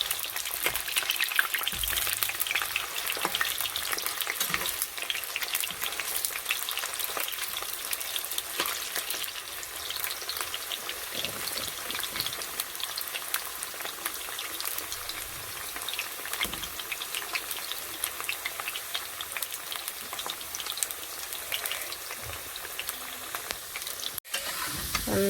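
Potatoes frying in hot oil while being cooked until reddish-brown, a steady dense sizzle with occasional stirring scrapes, close and continuous throughout with no talking.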